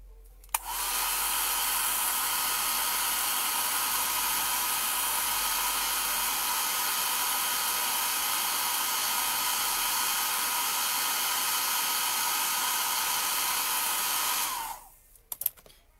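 A hair dryer blows steadily for about fourteen seconds, drying a freshly painted craft figure, loud and close with a constant whooshing hiss before it switches off.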